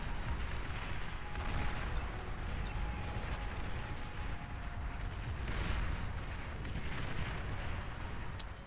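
In the real-time strategy game Beyond All Reason, a commander unit is destroyed and a rolling barrage of explosions and artillery-like blasts follows, loud and continuous with repeated booming bursts.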